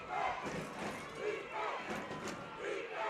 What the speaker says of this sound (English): The Mariner defense imploring this crowd to make some noise